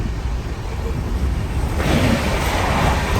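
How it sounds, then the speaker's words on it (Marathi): Steady rumbling of a moving train with rhythmic wheel clatter, loud and continuous throughout, no voices. "ट्रेनमध्ये"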